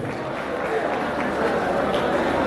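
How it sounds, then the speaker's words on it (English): Steady applause from an audience at a pre-retirement lecture, a dense continuous patter of many hands at moderate loudness with a murmur of voices underneath. "A round of applause for our PFAs."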